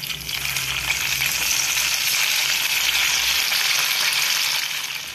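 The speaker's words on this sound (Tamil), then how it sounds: "இட்லியை நல்லா மாற்றி போட்டு நல்லா ப்ரௌன் கலரில் பொரிச்சாச்சு." Ragi idli pieces deep-frying in a pan of hot oil, giving a steady, dense sizzle that stays loud and even throughout with no voices.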